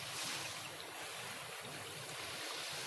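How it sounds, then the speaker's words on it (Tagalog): Large ocean waves breaking in the surf, a steady broadband roar with some wind noise, continuous and fairly distant, with no talking. "Ang ganda ng mga alon doon banda. Ang laki-laki."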